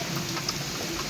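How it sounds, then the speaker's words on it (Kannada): Dense, steady heavy rain in Bijapur hisses continuously, a thick wash of drops with no pauses. "ನೋಡ್ರಿ ಭಾಳ ಜೋರಿದೆ ಮಳೆ"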